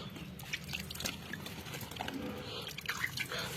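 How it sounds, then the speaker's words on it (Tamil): Diluted panchagavya liquid is flicked by hand onto plants in a rooftop garden, making faint, scattered drips and light patters against a quiet background. "நான் எதுவும் மிஷினில் ப்ரே பண்ணலை, அப்படியே தான் தெளிக்க போகிறேன்"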